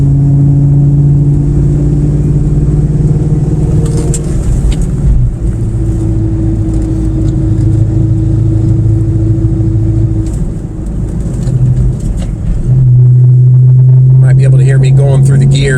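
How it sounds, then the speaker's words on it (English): A Cobra sports car climbing a twisting fall mountain road, NC 9 near Chimney Rock, with a steady loud engine drone whose pitch holds, dips and rises again as the driver shifts between third and fourth gear. "Going through the gears, third gear, fourth gear, third gear, fourth gear, depends if I'm going up the mountain or not."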